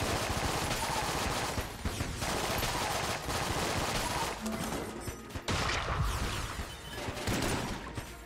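Dense, continuous rapid gunfire from Chaos bullets in Enter the Gungeon, loud and near with a few brief gaps, layered with crashes and game effects and no talk.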